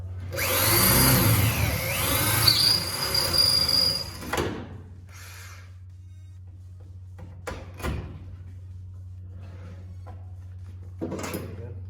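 A power drill whirs loudly for about four seconds and then stops, followed by quiet clunks and handling noises.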